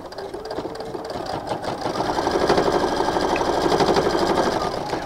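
A sewing machine stitches fabric for a tech charging station project, running in a fast, steady mechanical chatter that grows slightly louder and denser as it goes, close and continuous with no talking.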